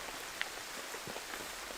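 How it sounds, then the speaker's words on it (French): Rain falling in a forest, a faint, steady hiss of drops with a few sharper taps on nearby surfaces, continuous throughout. "Il pleut, donc je vais mettre la bâche en première"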